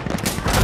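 Gunfire in the realistic shooter Insurgency: Sandstorm, a brief, loud burst of shots with dense crackling, over in under a second.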